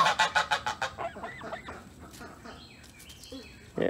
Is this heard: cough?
no